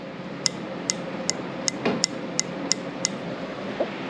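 Carburetor slide on a long-idle Suzuki four-wheeler clicks sharply up and down in a regular series of about ten light metallic taps, close up over a faint background hiss, no talking.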